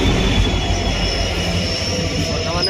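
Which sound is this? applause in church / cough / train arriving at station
train arriving at station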